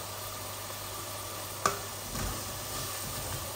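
Chicken drumsticks, a breast piece and vegetables fry in a pan with a steady low sizzle, broken by a single sharp utensil knock and a brief stir.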